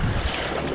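Wind rushes outdoors by a creek under a highway on a warm, breezy day, a short burst of steady broadband buffeting noise close to the microphone.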